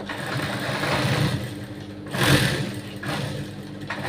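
A sewing machine stitching a blouse hums in a steady mechanical whir, close and fairly loud, with a brief louder surge midway.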